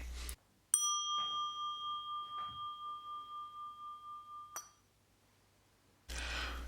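A single struck meditation bell rings out clear and sustained in a quiet room, its pure tone slowly pulsing and fading over several seconds before cutting off abruptly.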